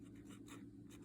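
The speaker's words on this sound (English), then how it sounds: "my other favorite is to write on, you know, just a regular kind of staples" A dip pen scratches across ordinary lined staples paper, a steady faint close scraping that runs the full second with small rhythmic swells as the strokes move, no voices present.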